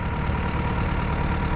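A farm tractor engine idles with a steady, rough low rumble and faint rhythmic knock, continuous and close.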